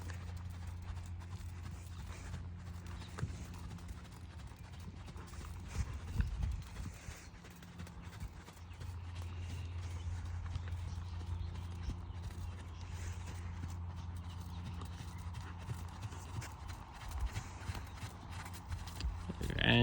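Hooves beat softly in a steady three-beat rhythm as a horse canters around an arena, muffled and somewhat distant beneath a low background rumble.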